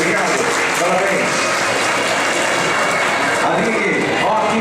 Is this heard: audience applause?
yes